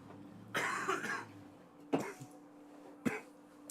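Three separate coughs, quiet and close, spaced a second or so apart with near silence between them.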